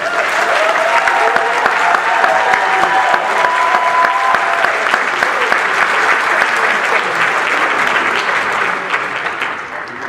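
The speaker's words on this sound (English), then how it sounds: "let's give her a round of applause, Ms. Parker." A graduation audience applauds a 2012 CTI class valedictorian, steady dense clapping filling the hall at a loud, even level for about ten seconds, with faint voices and a few whoops mixed in.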